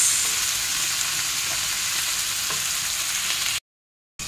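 Cabbage and carrots being sautéed and mixed in a pan for sotanghon noodles, a continuous close sizzle with faint stirring scrapes, cut off by a brief silence near the end.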